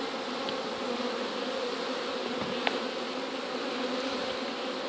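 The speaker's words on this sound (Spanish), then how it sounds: "Ahí puede ver usted a la abeja" Bees feeding on banana inside a hive feeder give a steady, close, continuous buzzing hum at moderate loudness, with a brief click partway through.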